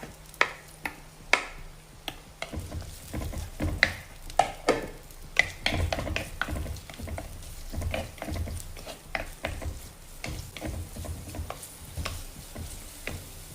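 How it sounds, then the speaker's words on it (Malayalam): Chopped small onion frying in a pan with ground fenugreek for a traditional Kerala fish curry, giving a steady sizzle broken by frequent sharp scrapes and knocks of a spoon stirring against the pan, close and moderately loud. "ആ ഒരു ചെറിയ സവാള നമ്മൾ അരിഞ്ഞു വെച്ചത് അത് ചേർക്കാം"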